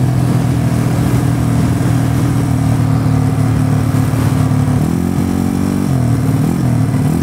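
Yamaha Mio scooter with a 300cc engine revs loud and close, a steady throaty drone that climbs in pitch twice near the end as the throttle opens, with no talking.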